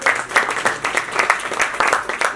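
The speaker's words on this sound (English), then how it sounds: "a huge round of applause for yourselves" A crowd at the launch of the book "But What Does Science Say?" by Dr. Manan Vora claps for itself, dense rapid applause that stays fairly loud and even throughout.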